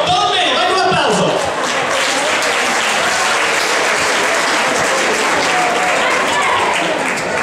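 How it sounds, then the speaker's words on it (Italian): A concert crowd at a Sanremo-themed singing finale breaks into loud, sustained applause that fills the space for several seconds at an even level, with voices mixed in. "vai un applauso!"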